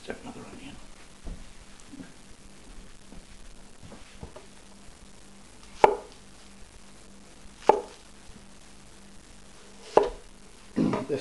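Four sharp, spaced-out knife chops through onion with a forged stainless hollow-ground nakiri prototype, crisp and close against a quiet room.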